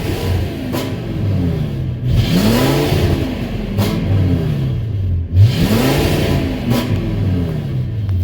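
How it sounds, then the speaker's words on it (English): A Ford F450 pickup's 6.8 V10 gasoline engine, low on fuel pressure, revs up and falls back in three repeated swells over a steady idle, loud and close with no talking. "I rev it up."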